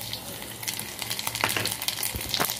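Mustard seeds, cumin and garlic sizzle in ghee and a little oil in a pot, a steady crackling fry with small pops and a few brief stirring knocks, close and moderately loud.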